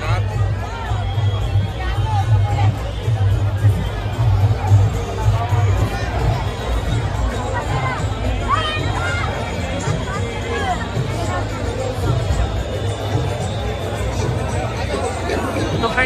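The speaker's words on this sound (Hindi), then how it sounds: "यहाँ पे देखो भीड़" A dense crowd of worshippers murmurs and chatters continuously at a decorated temple during Maha Shivratri darshan, a steady hubbub of many voices near and far.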